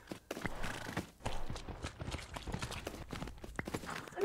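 A young horse in a video game clip-clops through water in a quick, steady rhythm of hoofbeats with splashy texture, close and fairly loud, with no talking.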